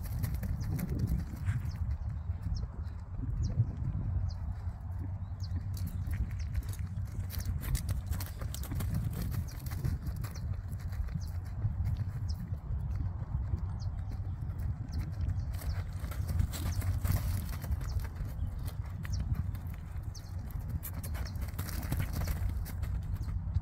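A horse moving around a dirt pasture, its hooves thudding in an irregular clip-clop under constant wind and outdoor rumble, with faint voices now and then.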